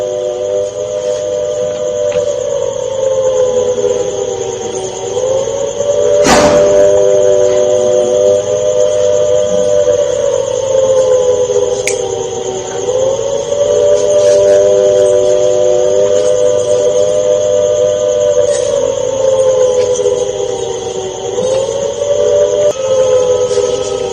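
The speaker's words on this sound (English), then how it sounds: "This time, sirens are ringing in Punjab's Firozpur as well." An air raid siren in Firozpur, Punjab, drones on a steady, slightly wavering pitch for the whole stretch, with one sharp click partway through.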